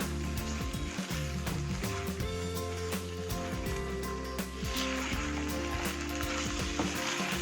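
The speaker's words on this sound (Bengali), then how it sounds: "এটাকে ভালো করে কষিয়ে নেবে।" Chicken with cumin and a little turmeric sautéing in a hot pan, a loud, continuous close sizzle and crackle of frying with stirring scrapes, no talk.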